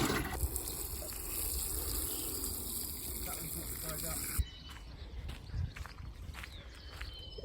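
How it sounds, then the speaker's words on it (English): Water poured onto the soil around a newly planted fig tree on an allotment, a soft trickling gush that stops partway, followed by quieter rustling and handling sounds outdoors. "I'm going to water the fig"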